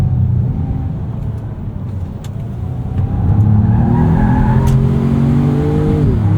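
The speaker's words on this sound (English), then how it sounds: "Love how responsive the 7-speed automatic is." A 2025 Ford Maverick Lobo with a 7-speed automatic accelerates, its engine rising in pitch through a gear change, then building again and swelling louder as it pulls hard, heard steadily from inside the cabin.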